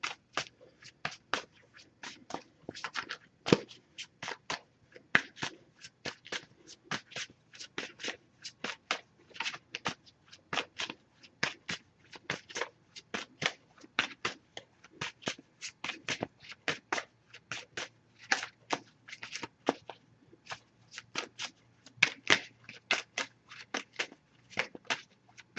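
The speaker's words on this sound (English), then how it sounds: "Just going to pull a single card from this deck." Oracle cards from a Messages of Love deck being shuffled by hand, a long run of quick, crisp riffling flutters with brief pauses, close and fairly quiet, with no talking.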